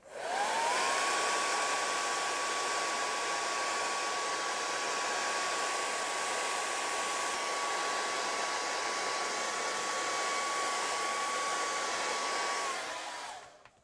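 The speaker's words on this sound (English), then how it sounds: "Let's put that hairdryer back on and let's just see if we can't recreate this." A hair dryer blows steadily on wet watercolour paint, a close, continuous whooshing hum with a faint whine that starts abruptly and cuts off at the end, with no voices.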